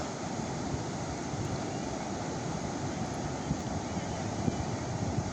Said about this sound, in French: C'est très paisible ce soir. J'entends les vagues.